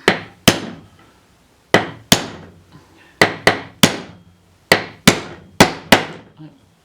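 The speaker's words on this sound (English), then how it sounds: "I'm going to try it with a hammer again." Sharp hammer blows strike parts of an Ashford Traveller 3 spinning wheel during assembly. The strikes come close and loud, one at a time or in quick pairs, with short pauses between the groups.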